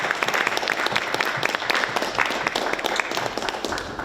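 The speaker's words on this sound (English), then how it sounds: "I think he deserves a round of applause as well" Steady applause from a film festival audience after a screening Q&A, a dense wash of many hands clapping together at an even level with no voices standing out.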